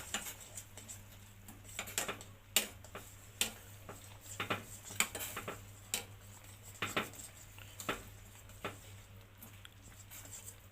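Choux pastry dough made with high-protein wheat flour being stirred in a pan, heard as irregular faint scraping and tapping of a utensil against the pan in a quiet room, with no talking.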